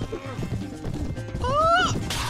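A horse in Mount & Blade: Warband trots with hoof clatter, then gives a short, rising whinny near the end of the brief moment.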